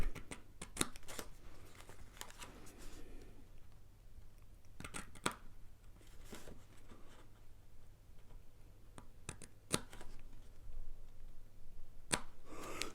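Scissors cut out the paper pieces of a Christmas pop-out card, a series of sharp, close snips and papery rustles spaced irregularly between quieter pauses, with no talking.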